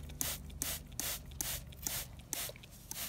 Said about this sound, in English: Okay, so Levi's gonna spray it